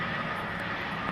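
A Lufthansa airliner passes at London Heathrow Airport, heard as a brief, broad, steady engine roar, loud and continuous throughout.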